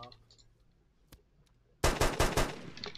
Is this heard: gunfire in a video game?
yes